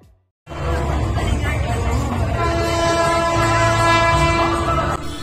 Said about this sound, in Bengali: তোমার ট্রেনের আওয়াজ শুনতে পারলো তো?